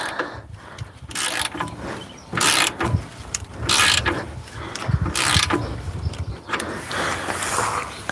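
A ratchet wrench cranks a belt tensioner on a school bus engine in repeated bursts of clicking, loud and close, with mechanical rattles between strokes and no talk.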